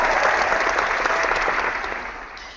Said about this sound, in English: I'm just giving you a round of applause just to say I agree with you.